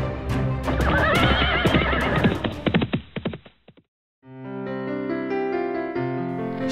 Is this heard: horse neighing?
yes